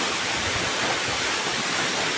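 Water spills from the hills at Sahasradhara waterfall in Sitakunda as an unbroken, even rushing hiss, close and fairly loud, with no voices.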